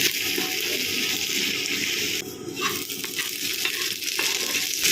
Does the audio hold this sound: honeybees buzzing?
no